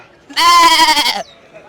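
One loud, close goat bleat, wavering and nasal, lasts under a second against an otherwise quiet background.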